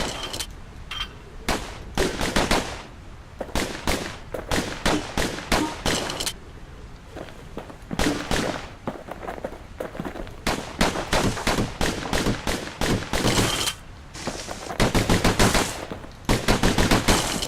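Dual slinger pistols firing in the video game Bastion, dense rapid bursts of sharp gunshots repeating almost continuously with only brief pauses, loud and punchy throughout.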